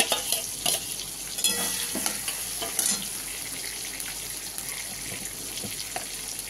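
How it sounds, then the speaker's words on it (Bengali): Ginger paste dropped into a pan of oil and tomato for chilli butter paneer, giving a continuous moderate sizzle with intermittent stirring clinks and scrapes. "এবার দিয়ে দিচ্ছি আদা বাটাটা"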